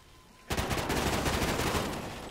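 Sustained automatic gunfire in Call of Duty: Ghosts begins abruptly after a quiet moment and continues as a loud, dense, unbroken rattle of rapid shots.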